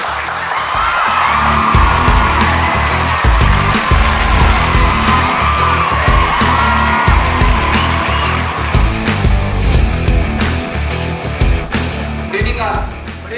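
Loud crowd of audience members clapping and cheering together, a dense burst of claps with yells and whoops that swells and then tapers off at the end.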